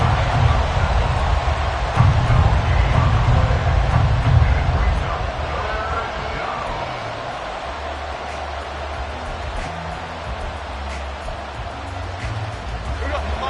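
A stadium crowd at a New York Giants football game roars as a steady broadband wash, louder at first and then settling to a lower rumble, with play-by-play commentary over it.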